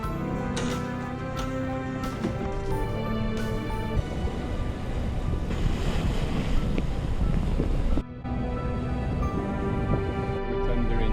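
A tender boat motors across the sea toward Villefranche-sur-Mer, its engine droning under steady wind buffeting and the rush of water against the hull.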